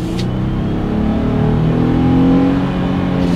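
A 2020 Jeep Gladiator Overland pickup accelerating hard, its engine note climbing steadily and loudly from inside the cab for several seconds with no talk.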